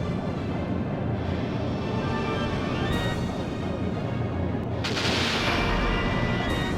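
Sub-cannons fire at the Hydra in a Skies of Arcadia airship battle, a dense, continuous barrage of booming, gunfire-like blasts with a sharper surge toward the end.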